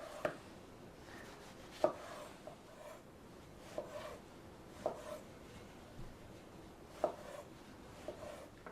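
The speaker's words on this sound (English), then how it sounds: "I'm going to go ahead and get those diced up" A knife dices fresh tomatoes on a cutting board, giving faint, sparse chops roughly once a second over a quiet room background, with no talking.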